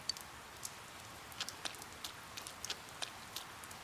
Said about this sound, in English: It began raining.